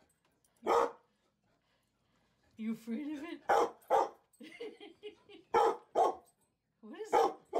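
A dog barks in sharp, close bursts, several loud barks spaced across the stretch, with a person speaking between them.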